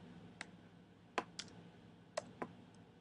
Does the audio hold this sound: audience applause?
no